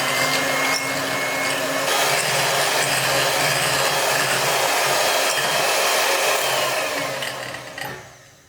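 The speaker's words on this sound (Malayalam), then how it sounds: "ഇത് പോരാട്ടോ, ഒന്നും കൂടി ബീറ്റ് ചെയ്തെടുക്കണം" An electric beater whipping dalgona coffee, a steady high motor whir that runs loud and unbroken, then winds down and stops at the end.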